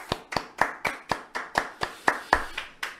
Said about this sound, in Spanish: Lo recibimos a él con un fuerte aplauso